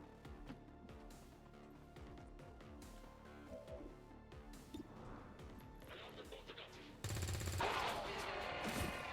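Rapid bursts of SMG fire crackle through a tactical battle in XCOM 2 Long War of the Chosen, with clattering impacts, a dense louder burst near the end, and scattered game sounds underneath.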